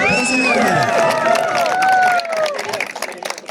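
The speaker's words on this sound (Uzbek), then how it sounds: "Championingizga bitta qarsak bo'lsin bu kishilarga." A crowd at an award ceremony claps and cheers for volleyball champions, loud applause mixed with whistles and excited shouts, fading into scattered claps and chatter.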